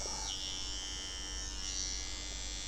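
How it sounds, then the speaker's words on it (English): An electric hair trimmer lines the side and nape during a barbershop haircut, giving a steady, close, high-pitched buzz whose tone shifts slightly as it meets the hair. "We use a trimmer to achieve this"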